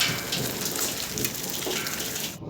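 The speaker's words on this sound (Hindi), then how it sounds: "बारिश शुरू हुई है" Heavy rain pours down in a steady, loud, dense hiss with no pauses, cutting off abruptly at the very end.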